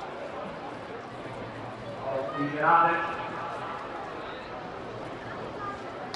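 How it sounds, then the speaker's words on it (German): Racehorses gallop along a racetrack, their hoofbeats swelling briefly as the field passes nearby and then fading, heard under continuous German race commentary. "kommen die Pferde im Kreis."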